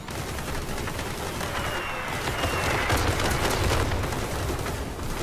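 Gunfire in the Crossout vehicle combat game, with dense continuous bursts and booms blending into a loud, steady wall of battle noise, with no talk.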